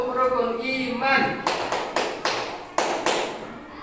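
A group of children clap the rukun iman clap chant in a classroom religion lesson: several sharp, evenly spaced claps ring out loud and close after a stretch of chanting voices.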